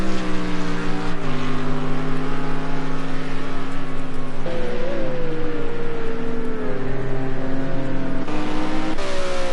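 GT race cars, including a blue and white Ferrari, racing at Snetterton in the British GT championship, a loud continuous engine drone with shifting pitch as cars pass and change gear, no voices.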